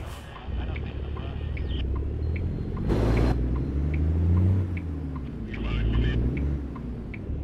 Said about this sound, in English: truck sounds really good, actually.